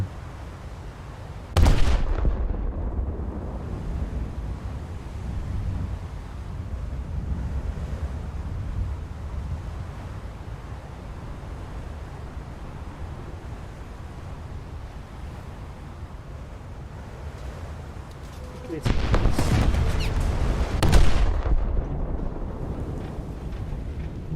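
8-inch naval guns fire in War Thunder at sea: a sharp, heavy blast early on, then a second cluster of booming shots about seventeen seconds later, over a steady bed of wind and ocean-like rumble.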